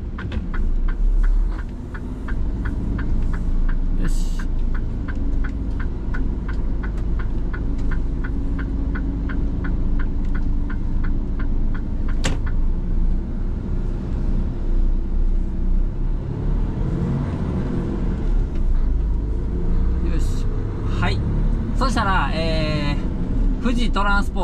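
A Mitsubishi Fuso Super Great tractor-trailer pulling away at night, its diesel engine throbbing low and steady from inside the cab, with a regular ticking in the early part and someone speaking over it.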